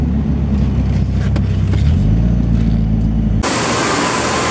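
Mitsubishi Evo 7 with a 4G63T turbo engine being driven, a steady loud engine drone from inside the car with a rising rev tone, then a sudden change to a hissing, brighter road noise.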